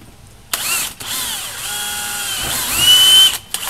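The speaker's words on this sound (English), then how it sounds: "Take a 1764 drill bit" A power drill with a 17/64 drill bit bores through a golf cart seat piece, its motor whining steadily in close, loud bursts that rise and fall in pitch as the bit bites, with short pauses between runs.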